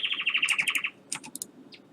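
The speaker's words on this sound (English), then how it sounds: "I don't know why the birds are singing right now" Birds chirping and tweeting late at night, a run of rapid high trills followed by a few scattered short calls, moderately close and alone without talk.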